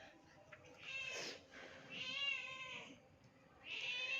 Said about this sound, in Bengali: এই আমার বিড়াল ওই দিক থেকে ম্যাও ম্যাও করে